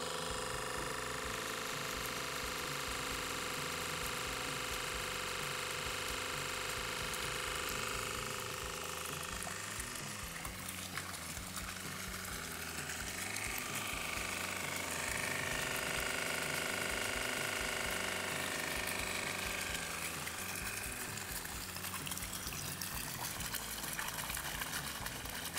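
A homemade water pump runs in a pond, giving a steady, continuous churn of motor hum and splashing water that stays fairly even throughout, with no talking.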